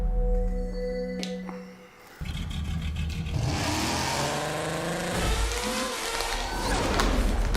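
Rally car engine from the intro of the motorcycle racing video game TT Isle of Man, rising into a loud, sustained revving roar after a brief quieter lead-in with a short dip, then holding steady at full throttle.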